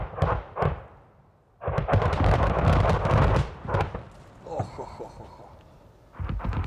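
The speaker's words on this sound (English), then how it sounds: "It's Russian artillery working now." Russian artillery firing in eastern Ukraine, heavy booming blasts rolling in bursts, loud and close, with someone talking between and over the rumbling.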